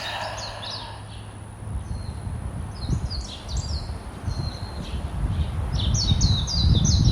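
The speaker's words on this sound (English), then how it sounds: "enjoying listening to the birds" Wild birds chirp and call outdoors in a natural setting, with repeated short high-pitched phrases, some caw-like, coming in bursts over steady rustling and low ambient noise that grows louder toward the end.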